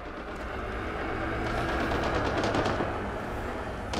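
Gunfire bursts rattle through a busy firefight in the video game Mass Effect Andromeda, sharp shots crackling over a constant rumbling bed of game noise, with a faint voice underneath.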